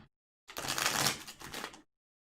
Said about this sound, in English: So we'll shuffle them up.